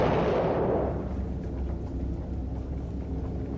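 A torpedo explosion aboard the Russian submarine Kursk: a loud, deep blast that fades into a long, low rumbling roar, with no voices over it.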